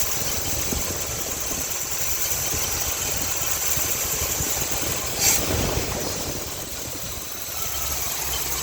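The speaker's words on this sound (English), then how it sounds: "Shaking, rattling, misfiring, running on like 4 cylinders." Rough-running car engine misfiring with the mixture control solenoid plugged in, shaking and rattling as if on four cylinders: a loud, uneven idle with a steady knocking pulse and one brief sharper burst partway through, no talking.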